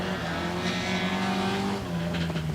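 A vintage sports car, a Nash, accelerates hard away from the start line at Wiscombe Park hillclimb, its engine roaring loud and close with a strained, rising drone.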